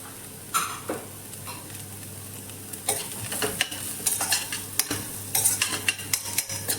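Chopped carrot, beans and cabbage are sautéed for ragi soup, giving a lively sizzle. Frequent rhythmic spatula scrapes and clacks against the pan grow denser toward the end, close and loud, with no talking.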